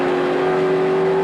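A Castrol touring car from the 1996 ATCC round at Phillip Island drones at steady high revs, a loud continuous engine whine with no break over the short stretch.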